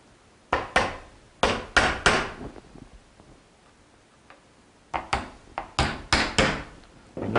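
Nails being hammered into a butt joint on a wooden Pygmy kayak panel at a boat-building school, two clusters of sharp, close woody knocks in quick rhythmic bursts with a pause between them.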